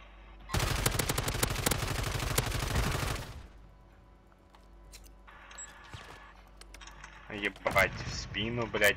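Rapid automatic gunfire in a battle royale shooter game, a dense burst of shots lasting about three seconds, then quieter scattered game noises, with someone talking over it.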